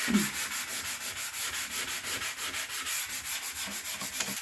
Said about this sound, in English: I'm gonna lightly sand them away